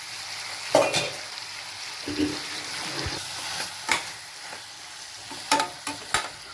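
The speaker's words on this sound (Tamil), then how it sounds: "இப்போ நல்லா வதங்கி வரட்டும்." Steady sizzling of mutton liver gravy ingredients frying in a pan, with intermittent scrapes and taps of a spoon stirring it.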